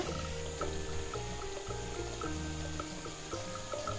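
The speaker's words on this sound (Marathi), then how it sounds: "यामध्ये आपण एक वाटी पाणी ॲड करूया" A bowl of water pouring into a pan, a soft continuous splashing under a low musical backdrop, with no talking.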